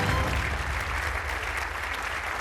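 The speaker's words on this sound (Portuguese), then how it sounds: "aplausos para o Rui" Studio audience at a Portuguese television game show applauding contestant Rui, steady loud clapping and crowd noise filling the whole short stretch without a break.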